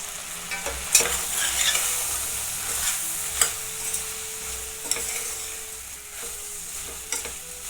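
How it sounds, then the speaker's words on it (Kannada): Spiced brinjal and drumstick curry with sambar powder, chilli powder and coconut masala fries over medium heat in a steady close sizzle, broken by repeated spoon scrapes and knocks against the pan; no talking. "1 ನಿಮಿಷ ಹಂಗೆ ಮೀಡಿಯಮ್ ಉರಿ ಇಟ್ಕೊಂಡು ಫ್ರೈ ಮಾಡ್ಕೊಳ್ಳೋಣ"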